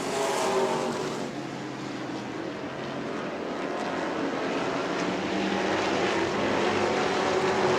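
Pro race trucks roar around an oval track at New Smyrna, a dense, steady wall of engine noise from several trucks, heard from a distance and gradually swelling louder.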